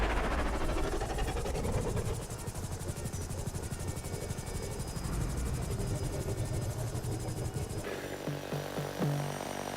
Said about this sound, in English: It's hard to keep this chopper steady.